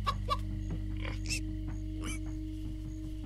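A few soft chicken clucks in Minecraft: Story Mode, short and scattered over a constant low hum.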